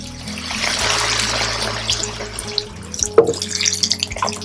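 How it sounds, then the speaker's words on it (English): Hot water pours steadily into a pot of chicken with a broad splashing hiss, followed by a few clinks and smaller trickles toward the end. "I'll add 2 cups of hot water."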